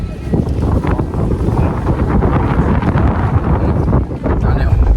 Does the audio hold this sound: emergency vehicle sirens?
no